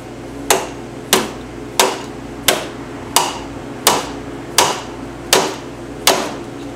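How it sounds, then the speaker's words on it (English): A rubber-faced dead blow hammer strikes nine times at a slow, even pace, each blow a sharp, solid thud with a brief ringing decay, close and loud. "I'm going to use the dead blow hammer with the rubber face."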